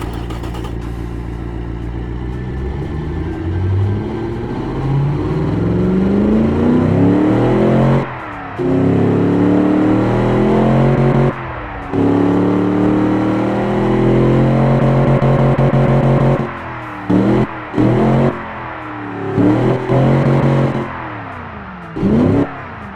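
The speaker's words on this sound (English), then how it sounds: "5-liter engine, V8, proper V8. Let's fire it up." A 1980s 5-litre V8 car engine cranks, fires and settles into a rumbling idle, then revs repeatedly in sharp blips with brief cuts between them, loud and close throughout.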